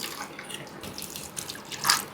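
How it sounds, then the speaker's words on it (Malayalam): Water poured into a mixer jar holding ginger, a short close splashing pour with a brief louder gush at the end. "കുറച്ച് വെള്ളം കൂടി ഒഴിക്കാം."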